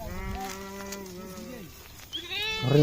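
Goats bleat close by near the end, a couple of wavering calls following a stretch of a person talking.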